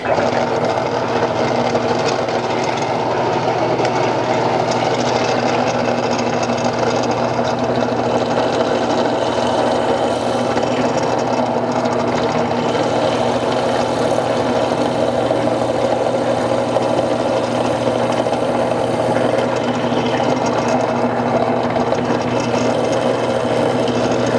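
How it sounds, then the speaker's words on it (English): A Central Machinery drill press motor hums steadily and loudly without a break, a constant whirring drone with a faint scraping edge as it bores through material. "let's go ahead and drill. Hit that on button."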